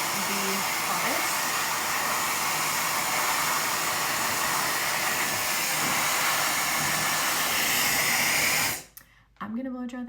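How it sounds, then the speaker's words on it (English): A hair dryer runs on its hottest red setting, a loud steady rushing blow that fills the clip, then cuts off abruptly near the end, leaving brief faint sounds. "I'm going to blow dry this and I'll be right back."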